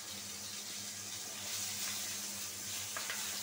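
Katla fish fries in a pan on a kitchen stove, giving off a steady, hissing sizzle that swells slightly partway through, close and continuous with no talk over it.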